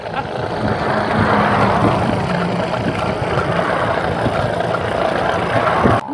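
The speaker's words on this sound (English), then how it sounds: "With 0 throttle, just idling." A small two-stroke engine mounted on a kick scooter idles at zero throttle, a steady buzzing drone that holds for several seconds at moderate loudness, close by and alone.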